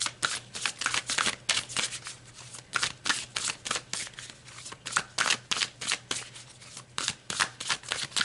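Tarot cards being shuffled by hand in a steady run of crisp riffling flutters and soft slaps, close and clear, with no talking.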